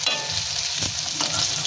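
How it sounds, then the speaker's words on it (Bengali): Fish deep-frying in plenty of oil gives a dense, continuous crackling sizzle, close and loud, broken by a brief scrape of a stirring utensil. "ছাঁকা করে মাছগুলোকে ভাজতে হবে।"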